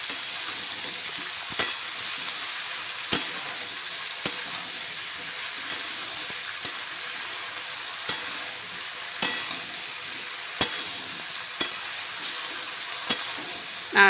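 Ginger paste stirred into bottle gourd in a pan: a low steady sizzle with regular sharp clacks of the spoon against the pan roughly every second or so, no talk.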